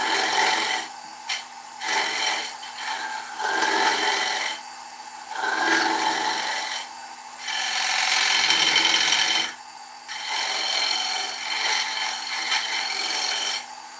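An oak bowl spins on a wood lathe as a tool cleans up the tenon, giving bursts of close scraping and rasping that stop and restart with short quiet gaps between passes.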